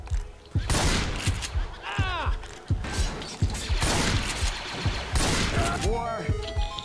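Rapid bursts of gunfire from the video game Left 4 Dead 2, with clicking weapon mechanisms and reload sounds, loud and close under frequent overlapping talk from players.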